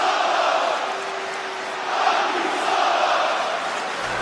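Arena crowd in the WWE 2K25 wrestling video game reacting with a sustained, rolling roar of jeers and shouts, steady at moderate loudness with a slight swell midway.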